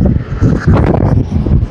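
Strong wind roaring and buffeting against the microphone, a loud, continuous low rumble that swells and dips with gusts.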